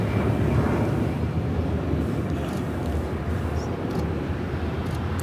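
An American Airlines Airbus A321 takes off, heard as a steady, loud low jet roar that holds evenly throughout with no talk over it.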